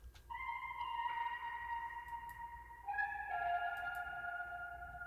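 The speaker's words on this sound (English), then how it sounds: "And the first thing first is this guitar I found in Splice." A guitar sample from the Splice library plays sustained melodic notes alone in a soft, reverb-washed tone, the pitch stepping down partway through over a faint low hum.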